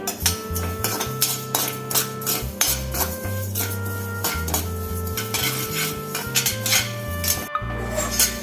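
Poppy seeds and sesame seeds dry-roasting in a hot pan, stirred with a metal utensil that scrapes and clinks against the pan in a steady, close, busy rhythm with no talk.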